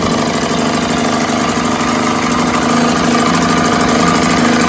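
A Mercury 3.9 outboard kicker motor running at low idle with a steady, slightly uneven sputtering engine note, loud and close, with no talking over it.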